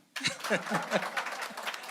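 An audience at a music and media conference bursts into brief, lively clapping, dense hand claps with a few chuckles mixed in.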